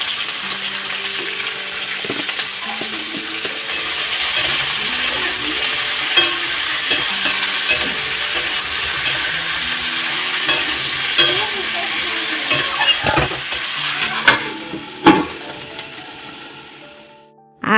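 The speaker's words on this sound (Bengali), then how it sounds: "এই তো এখন ডালটা ভাজা হয়ে গেল আর দিয়ে দিলাম সবজি আর সবজিটা এখন ভাজা ভাজা করে নিয়ে" Lentils and vegetables fry in a pot for khichuri, giving a continuous close sizzle with repeated scraping and stirring clatters throughout, then trailing off near the end.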